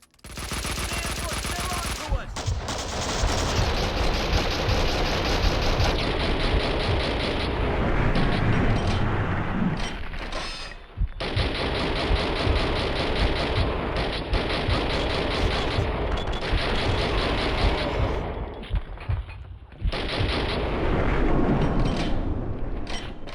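Kalashnikov assault rifle fire in the Max Payne 2 video game, dense sustained bursts of gunfire filling nearly the whole stretch with only brief gaps, loud and close with game sound mixed in.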